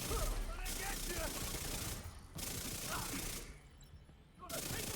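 Dense, rapid submachine-gun fire from the Chatterbox SMG in The Division 2 rattles in long bursts broken by two short pauses, loud and continuous in the foreground.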